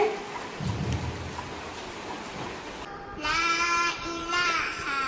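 Rain falls steadily with low rumbles that could be thunder, a constant wash of noise, then a brighter tonal sound with harmonics joins partway through over the rain.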